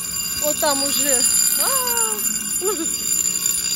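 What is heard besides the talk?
warning signal at a lowering barrier gate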